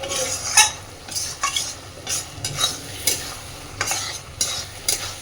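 Red and green spinach is stir-fried in a pan, with repeated scraping strokes of a spatula at an uneven rhythm over a soft, steady sizzle and no voices.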